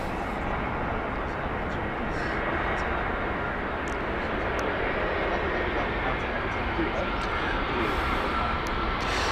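A Finnair airliner inbound to Heathrow Airport gives a steady, broad jet roar that holds at a moderate distance throughout, with faint clicks over the top.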